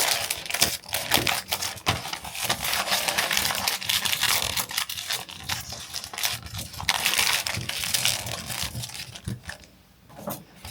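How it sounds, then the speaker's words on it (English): Burger-style paper wrapping being folded around a coaster, close crisp crinkling and scraping with sharp taps and rustles continuing steadily throughout, no voices. "I just fold them up like an actual little burger"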